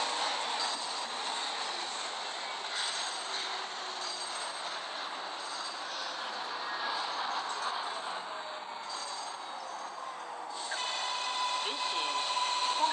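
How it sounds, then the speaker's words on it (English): An NYC subway R188 7 train arriving in the Hmmsim 2 train simulator game, a steady loud rumble with wheel squeal that swells toward the end. "The next 7 train to Flushing Main Street is now arriving."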